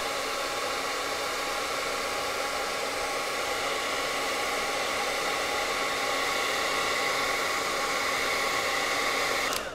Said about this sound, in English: let's pull out the blow dryer.